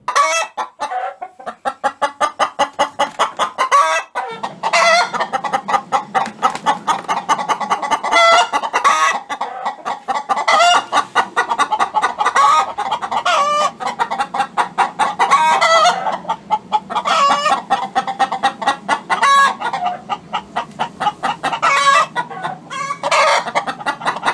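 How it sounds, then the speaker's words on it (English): Backyard hens sing the egg song, clucking and cackling in loud, repeated bursts, a rising squawking chatter that keeps returning over a steady farmyard background. "The egg song can range from cute chatter to full-on operatic screaming."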